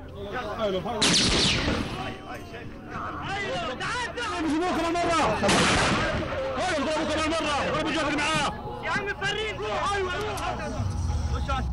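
Bursts of gunfire from snipers ring out in an exposed open area where cameramen are being targeted, sharp loud cracks scattered over about twelve seconds amid a busy, chaotic background with voices.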